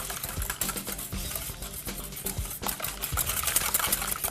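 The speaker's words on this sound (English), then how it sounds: "Whisk it until we don't see any little globs of white or globs of yellow in there" Eggs are whisked briskly in a bowl, a rapid, steady clicking and sloshing rhythm close up and fairly loud, with no talking.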